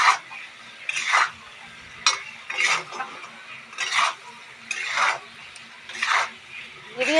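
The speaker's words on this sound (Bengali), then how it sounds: "মশলাটা ভাজবো, ভেজে তারপর জল দেবো" Spices with chili powder are stirred and fried in an iron wok, with rhythmic scraping strokes of a spatula against the metal repeating every second or so over a faint sizzle.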